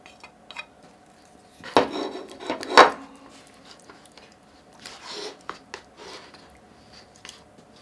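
A spoon scrapes and clinks inside a cup of crab-flavoured instant ramen as crab cracker snacks are stirred in, with a few sharp rasping strokes and softer intermittent rubbing, close and fairly quiet.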